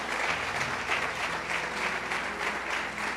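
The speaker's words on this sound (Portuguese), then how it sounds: "Quantos podem aplaudir Jesus por isso?" A church congregation applauds steadily, a dense, even wash of many hands clapping that holds at the same loudness throughout, with no voices standing out.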